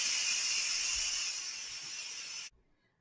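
Steam hisses in a steady, loud rush from an Instant Pot's pressure release valve after cooking vegetable soup, then cuts off abruptly, leaving near-silence.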